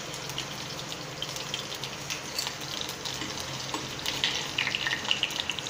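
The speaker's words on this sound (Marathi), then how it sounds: "मोहरी तडतडत आहे म्हणजे आपलं तेल गरम झालेलं आहे." Mustard seeds and finely ground garlic sputtering in hot oil for a Marathi-style tomato chutney, giving a steady close crackle and hiss with scattered sharp pops throughout, no voices.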